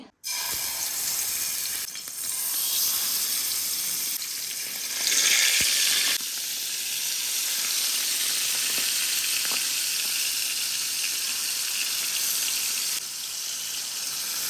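Pangasius fish fries in a pan with a continuous loud, dense sizzle that swells briefly midway and carries on steadily throughout.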